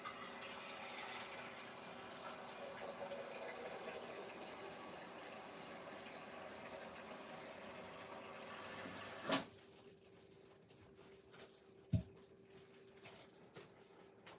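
Tap water runs steadily in a home kitchen for about nine seconds, a broad continuous hiss, then cuts off abruptly, leaving a quiet room with a single knock.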